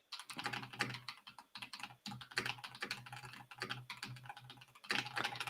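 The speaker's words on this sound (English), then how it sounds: "I'm just doing my aggressive typing" Fast, forceful typing on a computer keyboard, a dense continuous clatter of key strikes with brief pauses, close and fairly quiet.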